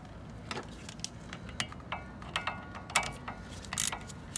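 Ratchet clicks at scattered intervals while a hex T55 bit breaks loose brake caliper bolts on the front brakes of a 2003 Chevy Silverado, close by and fairly quiet against low background rumble.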